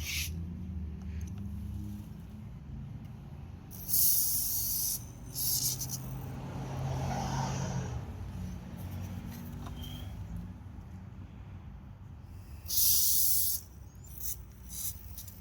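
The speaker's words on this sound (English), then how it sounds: "We're going to get that dry silicone again, and we're going to give that a little hit all the way around." Dry silicone spray squirted in several short hissing bursts around the rubber seal of a Ford F-150 fuel door, close and loud, separated by pauses with low background hum.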